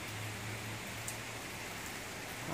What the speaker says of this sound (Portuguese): A chuva aqui não para.